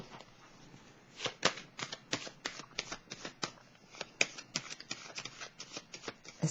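Tarot cards being shuffled by hand, a close series of crisp riffling bursts and soft slaps repeating in an irregular rhythm, quiet and without talk.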